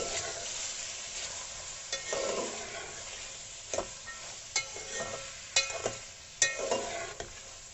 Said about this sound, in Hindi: इन्हें 2 से 3 मिनट के लिए भूनूंगी।